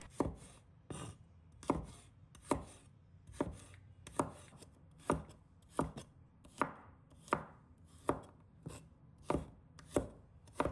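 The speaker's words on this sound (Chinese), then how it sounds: "把它切成小块。" A knife chops garlic into small pieces on a board, about fourteen crisp, evenly spaced thuds in a steady rhythm, close and clear with no talking.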